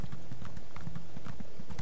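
Horse hooves clip-clop in a steady walking rhythm as a rider travels in the video game The Elder Scrolls Online, close and clear with no talk over it.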